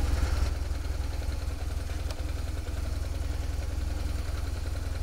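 A motorcycle engine idling just after starting, a steady low rumbling pulse that stays even and close throughout, with no voices.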